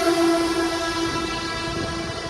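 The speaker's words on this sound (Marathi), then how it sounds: "ट्रेन पण आलेली आहे दिसत असेल." A train rumbles close by near Begdewadi station, a loud horn tone sounding over the steady roar of rolling wagons.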